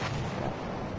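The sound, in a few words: mortar firing in Battlefield 1 video game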